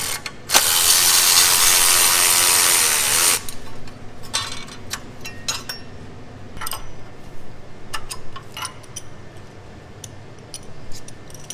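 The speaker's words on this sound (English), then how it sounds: "and then we'll take that bolt out" Ratchet clicking rapidly as a bolt beneath the heat shield is removed from a 2015-2021 Subaru WRX FA20 2.0L engine bay, a loud dense burst for about three seconds, then sparse clicks and small metallic ticks.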